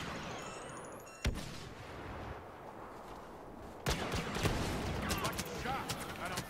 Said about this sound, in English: You don't like blaster fire?